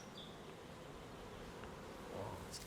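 Faint, steady buzzing of many honeybees in the background, a continuous low hum with occasional nearer passes, no talking.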